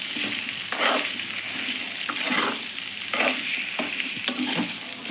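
Okra (bendakaya) frying in a pan: a steady close sizzle with repeated scraping stirs every second or so, and no voices.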